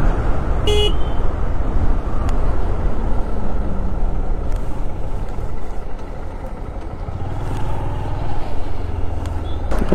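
Traffic jam at the Raiganj rail gate, with a steady roar of idling and moving vehicles and one short, sharp car horn toot early on, followed by faint distant honks.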